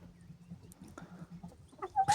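Korean broiler Todjon hens in a henhouse give soft, scattered low clucks nearby, ending in a louder, sharper squawk-like call.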